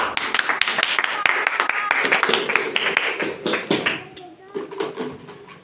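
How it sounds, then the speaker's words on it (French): Church congregation at a Sunday service clapping together, a dense burst of rhythmic applause that tapers off, mixed with voices and chatter from the crowd. "Acclamez pour la parole de Dieu."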